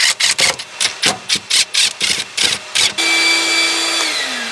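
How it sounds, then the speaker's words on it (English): A shop vacuum cleaning debris from around the fuel tank opening of an abandoned Lexus during a fuel pump replacement; a series of short rubbing, scraping bursts gives way to a steady, close whine of the vacuum running. "We don't want any garbage falling into our fuel tank, so we just vacuumed it up."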